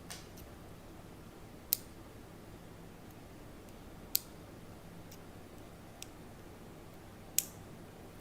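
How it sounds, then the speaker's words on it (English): First-generation Apple Pencil cap snapping closed onto the pencil, a handful of sharp, crisp clicks spaced a few seconds apart, close and isolated against a faint quiet background. "Very satisfying, snap when it closes."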